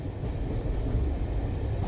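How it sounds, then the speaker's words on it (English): Train sound effect from an Android app animation: a steady, loud rumble of rolling rail cars with faint rhythmic clatter, heard alone throughout. "We'll restart this so you can get the full train effect."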